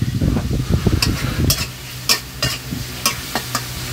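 Shrimp with garlic stir-fried over high heat in a pan for garlic shrimp rice, a steady loud sizzle with repeated scraping and clanking stirs, no talking.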